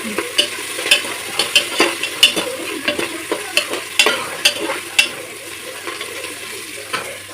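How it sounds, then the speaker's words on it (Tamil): Onions sizzle in a hot pan while a spoon scrapes and stirs in a quick, irregular rhythm, clacking sharply against the metal; the stirring fades toward the end. "மல்லித்தழை மட்டும் போட்டு வதக்கி போடலாம்"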